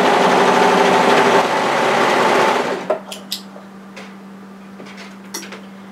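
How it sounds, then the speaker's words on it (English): An overlocker stitches along the folded edge of a fabric drawstring in a steady whirring burst, then stops, leaving a faint hum and a few light clicks and taps. "run a line of overlocking through the edge"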